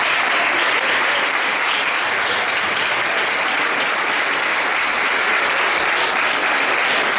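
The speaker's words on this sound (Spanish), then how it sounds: "vamos a darles un fuerte aplauso a esta comisión de fiestas de San Martín de Tours" Loud, dense applause from a large crowd fills the whole stretch without pause, greeting the San Martín de Tours festival committee at the opening of the Nabos 2024 celebrations in Sotrondio.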